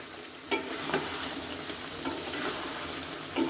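Fried potatoes go into a pan of braising chicken for lotpoti curry, a low steady sizzle with occasional scraping stirs and soft knocks of the spoon, no voices over it.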